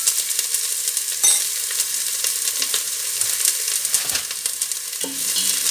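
Onions sear in a hot pan with a loud, close, continuous sizzle, while a spoon scrapes and stirs them every second or so. No one speaks.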